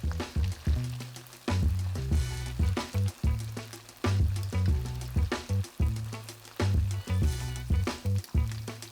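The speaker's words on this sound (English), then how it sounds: "once it's hot, drop the tofu in. You'll know it's ready when it lifts off the bottom of the pan and floats up a little." Tofu frying in hot oil in a pan makes a lively, crackling sizzle that rises and falls in uneven pulses, close and fairly loud, with no talking.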